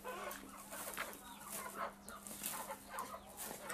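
Chicken clucking at a temple grounds in Vietnam, a fowl's repeated short clucks sounding steadily over an outdoor background hum, fairly near and moderately loud with no talking.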